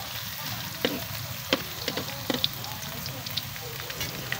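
Garlic sizzles steadily in a hot pan while a water spinach dish is cooked, a soft continuous crackle with a few sharper pops and scrapes of stirring.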